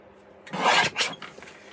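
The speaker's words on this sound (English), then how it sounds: "Guillotine always easier because it gives me a straight line." A paper guillotine trimmer slices through a stamped, embossed card in one short rasping stroke, followed by a lighter scrape. The cut is close and fairly quiet.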